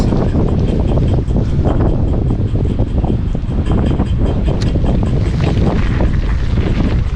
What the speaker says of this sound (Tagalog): Kasi malamig yung hangin, tapos medyo may ulan-ulan ng kaunti